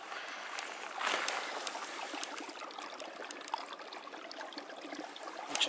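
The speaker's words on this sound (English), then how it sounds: "So, found a spring." Spring water trickles out from under a rock in a hardwood forest, a steady close bubbling and splashing that stays fairly even throughout, with no talking.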